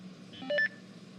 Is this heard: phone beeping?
yes